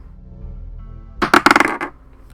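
A D20 die clatters briefly for about a second, a burst of several quick hard rattling clicks tumbling to a stop, close and fairly loud, with a low hum in the background.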